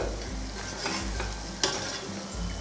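Puffed rice tossed and fried in a pan, a continuous close rustling sizzle with stirring scrapes and one sharp clack of a utensil partway through, no voices.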